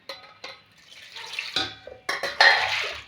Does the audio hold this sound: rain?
no